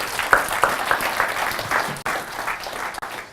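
Audience applause fills a room at the London Accessibility Meetup, a dense, steady patter of many hands clapping at moderate loudness for about three seconds, with no voices over it.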